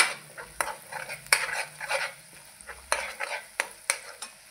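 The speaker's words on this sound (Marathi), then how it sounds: "असं तेलामध्ये 1 मिनिटभर परतून झालं की त्यामध्ये आता आपण लगेच कढीपत्ता टाकून घेणार आहे" Curry leaves go into hot oil with a potato curry base, crackling and sizzling while a utensil scrapes and stirs the pan in irregular sharp clacks, close and fairly loud, with no talk.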